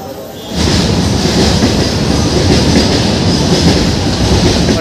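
A freight train at Kishanganj railway station rolls past close by. After a brief lull, the loud, steady roar of wagons sets in with rhythmic clattering wheels and faint squeals.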